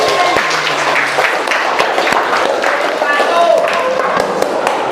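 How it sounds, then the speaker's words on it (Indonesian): A classroom of students applauds at the end of a vocational school photography lesson, dense steady clapping filling the room with some chatter mixed in. "Oke, tepuk tangan hari ini."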